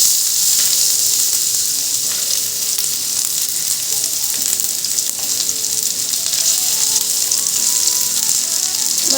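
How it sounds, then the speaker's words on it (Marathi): Alu vadi (colocasia leaf rolls) frying in hot oil in a pan over a low flame, a steady, close, even sizzle with fine crackling that holds throughout without any talk. "मस्त बारीक गॅस करून बारीक गॅसवर हे तळून काढा."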